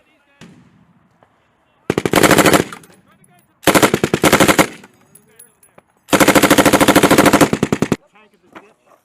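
An M240B or M249 light machine gun firing live on a combat arms training range at Yokota Air Base, Japan: three loud, sustained automatic bursts of rapid, evenly spaced shots, each a second or more long, separated by short quiet gaps.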